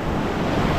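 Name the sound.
ocean waves at the beach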